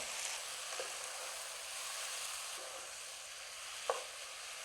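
Marinated chicken, coated in turmeric, salt and lemon juice, sizzles steadily in a pan with tomato for a spicy Chettinad curry, a dense continuous frying hiss broken by a few faint stirring clinks.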